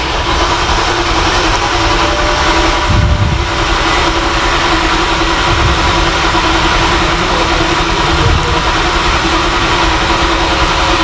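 A 2010 Mercedes-Benz GL450 engine cranks briefly, then catches and runs at a steady, loud idle throughout, close by, with a low continuous drone and no talk.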